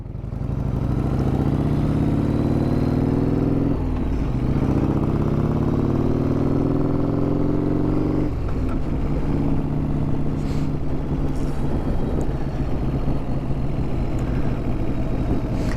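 A 1994 Harley-Davidson Softail Heritage Classic motorcycle engine runs steadily at close range, a low throbbing idle with uneven clatter that holds for the whole stretch, with a few small shifts in tone and no talk.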